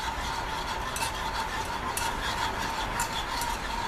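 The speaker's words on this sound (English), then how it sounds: "you have to keep stirring it until it comes to a boil, otherwise it burns." A pot on the stove is stirred continuously, with a steady scraping and swishing that runs without pause over a constant background hiss.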